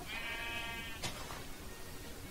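A Minecraft sheep bleats once in a wavering, harmonic call over steady game ambience, followed by a short sharp click, with no talking.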